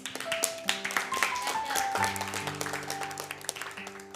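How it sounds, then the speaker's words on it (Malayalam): An audience gives a big round of applause, a close stream of sharp individual claps and taps in an irregular patter, with a faint background tone running underneath. "ഒരു ബിഗ് ക്ലാപ്പ് കൊടുക്കണം."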